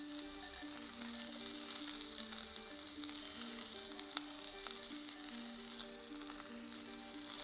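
Brinjal and delicate vegetables with garlic toss and sizzle in a pan for a vegetarian Thai green curry, a steady, soft frying hiss with faint clinks, heard alone.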